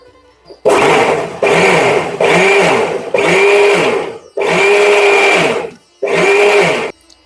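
An electric mixer beats cake batter of oil, milk and eggs in loud, sustained whirring bursts, about six of them separated by brief pauses, close and clear with no talk.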